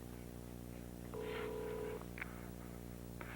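A single electronic telephone ring sounds briefly, followed by a couple of faint clicks over a low steady hum.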